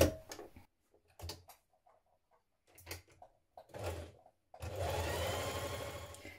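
A sewing machine runs an overlocking stitch along a fabric edge for a ruffle dress, starting with short separate bursts and then running steadily for the last couple of seconds, close and fairly loud.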